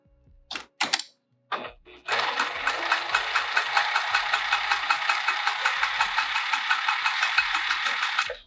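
A sewing machine runs steadily for several seconds stitching lines across a fabric bag, a fast even mechanical rattle after a few brief handling knocks, close and alone.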